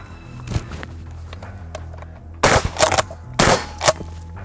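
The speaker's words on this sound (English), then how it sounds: "We'll start with the 590 A1, which is a pump action shotgun." Two heavy booming shots from a 590 A1 pump-action shotgun firing full-power slugs, each blast sharp and loud with a short echoing tail, about a second apart after a quiet lead-in.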